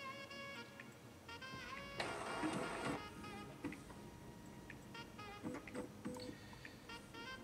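An Epson inkjet printer fitted with a continuous ink supply system powers on, giving a close, quiet run of mechanical whirring and ticking with a louder burst of carriage motor noise in the middle, alone without talk.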